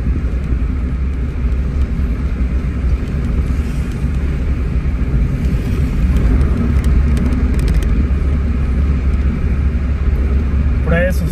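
Steady car engine and road rumble while driving along Rosas Magallón through Tijuana streets, continuous and close from inside the vehicle, with a voice talking over it.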